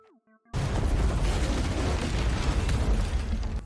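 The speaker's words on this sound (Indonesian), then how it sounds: "memasang bom di dalam pabrik yang siap diledakkan" Bomb blast inside a factory in a film scene: after half a second of quiet, a sudden loud explosion erupts and rolls on as a sustained, dense roar of rumble and debris to the end.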